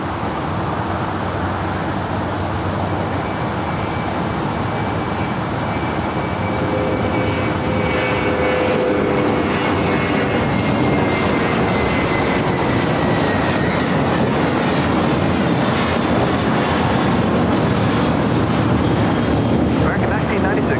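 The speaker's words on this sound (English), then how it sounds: "We got that American A321 now rolling down at 25 right." American Airlines A321 rolling down runway 25 right at LAX at night, a loud, steady jet engine roar with rising whining tones, heard over constant wind noise.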